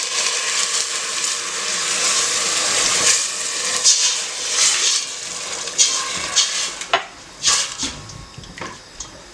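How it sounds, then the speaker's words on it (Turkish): About two glasses of water go into a pan of fried tomato paste, setting off a loud hissing sizzle that settles into intermittent crackles and spoon scrapes as the paste is stirred. "Evet salçamız kavruldu ve içine suyunu ilave ediyorum."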